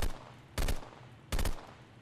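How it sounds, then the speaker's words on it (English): A burst pistol firing in the video game Deadrop: two short, loud bursts of rapid shots about three-quarters of a second apart, alone with no talk. "This actually has a sight on it. It's a burst pistol."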